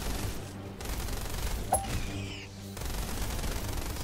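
Gunfire in the game Quantum Knights, a steady low crackle of shots under game ambience with a brief sharp effect midway, fairly quiet overall.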